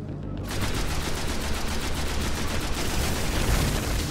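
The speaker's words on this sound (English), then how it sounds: "How about I shoot him in the face?" Sustained automatic gunfire in the Destiny shooter game, a dense continuous rattle of rapid shots that stays loud and steady throughout, kicking in after a brief quiet start.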